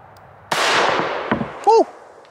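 A single 9mm pistol round is fired at a Birkenstock sandal, a loud sharp crack with a decaying echo, followed by a clatter and a short whoop of a voice.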